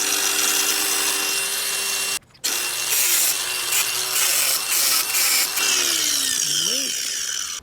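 A power tool grinds and cuts off a metal fitting on a Skyline R33 boot strut at close range, loud and harsh, with a brief pause partway through and shifting pitch as it bites.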